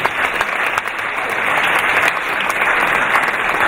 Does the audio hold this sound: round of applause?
yes